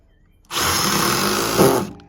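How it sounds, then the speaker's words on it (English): Power driver whirring as it sends screws through hidden deck fasteners, a single steady motor run of about a second and a half that rises briefly near the end before stopping, close and loud with no talk. "you hold the thing down and you send the 2 screws in"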